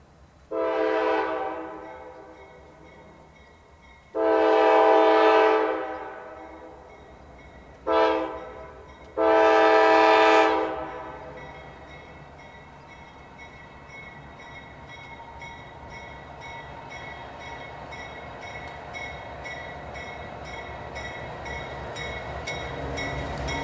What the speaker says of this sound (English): a pair of CSX light engines roll south by the station on Track 1